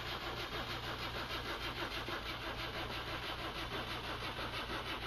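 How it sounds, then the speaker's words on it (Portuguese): In the My Summer Car game, a starter motor cranks a car engine in a fast, even, chugging rhythm that keeps going without catching, quiet and unbroken throughout. "Acabar com o motor de arranque"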